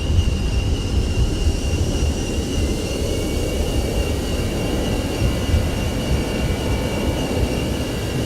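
Simulated ToLiSs A320ceo jet engines roar at maximum reverse thrust during landing at Tokyo-Haneda in X-Plane 12, a loud steady rumble with a thin whine layered on top, holding evenly throughout.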